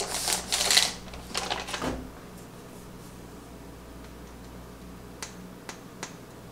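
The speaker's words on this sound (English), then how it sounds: "and then I'm just gonna tape it down." Adhesive tape is pulled and pressed down while wrapping a soap box, giving a loud ripping, crackling burst at the start followed by quieter scattered taps and small clicks close by.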